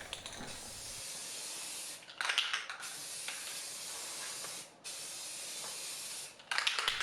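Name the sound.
spray primer can spraying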